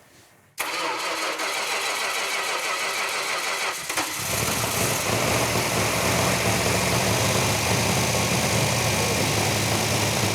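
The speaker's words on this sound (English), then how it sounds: "firing up that engine for the first time on the run stand" A car engine on a run stand, freshly built, cranks over and catches after a quiet start, then runs loud and steady at a rough idle for several seconds, close by.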